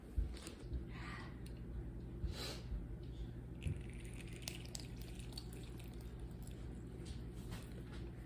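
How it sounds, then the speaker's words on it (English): A halved lime is squeezed with a juicer into a bowl for guacamole, producing faint wet squishing and trickling drips close by at low volume, with a few small clicks. "now you're gonna cut a lime in half, and then use this juicer to squeeze it into the bowl"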